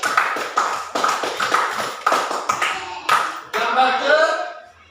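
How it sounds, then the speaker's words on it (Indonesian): Children in a classroom clap for classmates in several quick bursts of rhythmic group clapping, close and fairly loud, with brief pauses between rounds. "Tepuk tangan untuk Nela dan Ipal."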